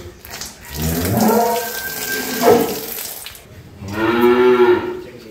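A dairy cow on a farm in Nilphamari moos twice nearby, with a long, loud, low call followed by a shorter one after a pause, and no talk over it.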